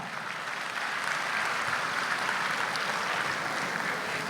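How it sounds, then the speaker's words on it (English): An audience applauds dancers at a school annual day celebration, a broad even wash of clapping heard from a distance in a large hall, steady and moderately quiet, swelling slightly after the first second. "So this deserves a thunderous round of applause"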